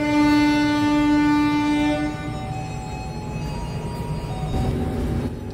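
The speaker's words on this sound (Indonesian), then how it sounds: "Jam 5 tepat, kereta api Kalegung diberangkatkan dari stasiun Semarang Poncol untuk menuju ke tujuan akhirnya di stasiun Cirebon Prujakan" Kaligung train departing Semarang Poncol station, a loud sustained horn blast sounding for about two seconds, then lower rolling rumble and clatter of the carriages as it pulls away.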